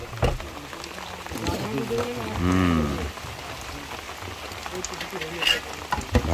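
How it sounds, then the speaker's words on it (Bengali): Light drizzle patters steadily in the Sundarbans forest, a soft, even hiss of raindrops throughout, while a person talks over it at moderate volume. "ইলশেগুড়ি বৃষ্টি।"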